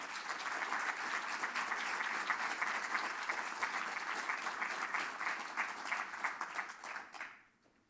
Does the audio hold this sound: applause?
yes